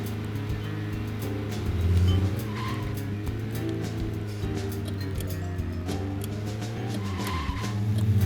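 A car in the video game Deadly Premonition drives with a steady engine hum, broken by a couple of squealing skids, moderately loud and heard without speech.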